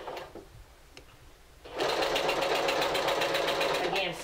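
After a quiet moment, a sewing machine starts up and stitches fabric over a tailor tack in a rapid, steady mechanical whir that continues close by.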